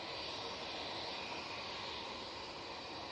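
A British Airways Airbus A320 jet airliner at Manchester Airport produces a steady, broad roar of engines throughout, fairly distant and unchanging, with no voices.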